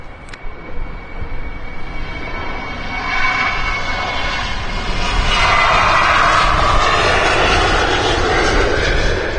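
A KLM Boeing 737 jet airliner roars past at takeoff thrust at Amsterdam Schiphol Airport, a loud broadband rumble that builds steadily and holds strong close by.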